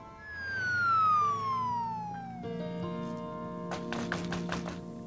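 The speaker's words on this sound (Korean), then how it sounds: "큰 부상을 입은 다니엘이 구급차에 실려갑니다." An ambulance siren wails with a long falling sweep, then steadier tones follow, and several sharp thumps come near the end.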